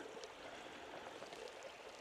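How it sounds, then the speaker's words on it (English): A river flowing out of a Lake District tarn gives a soft, continuous broadband rush of water, quiet and steady throughout without variation. "The river there is coming out of Bleewater"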